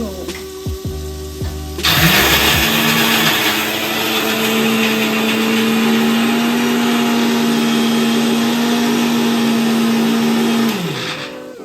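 A mixer grinder whirs loudly and steadily for several seconds, its motor pitch dipping at start and trailing off as it stops.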